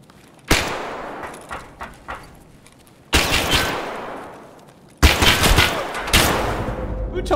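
Gunfire in the video game Escape from Tarkov comes in three loud bursts. A sharp shot with a few scattered follow-ups is followed by a reverberating blast and then a dense volley that rolls on and fades with a long echoing tail.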